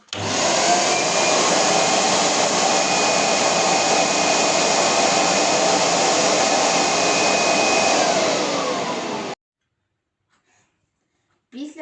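A Thomas Bravo 20S vacuum cleaner runs in wet cleaning mode with a loud, steady broadband roar for about nine seconds, then cuts off abruptly, leaving near silence and a brief faint noise at the end.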